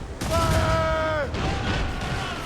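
Ship cannons fire in Assassin's Creed Rogue, a few heavy booming bursts in quick succession while a voice shouts over the volley.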